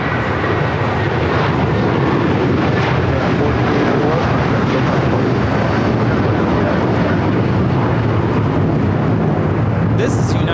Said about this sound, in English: This is United Airlines 1431 taking off to Honolulu on the 757-300.